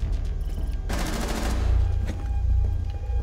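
Rapid bursts of gunfire in Rainbow Six Siege, Hereford Base map, a sharp volley of close shots followed by scattered further reports, loud and dense with no talking.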